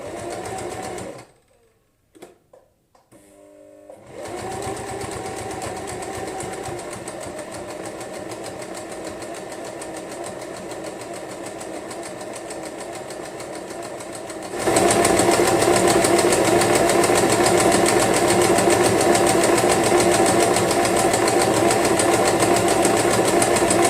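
A sewing machine runs zigzag stitches on denim, its rapid mechanical whirring continuous and close, briefly stopping near the start, then resuming and growing louder and faster partway through.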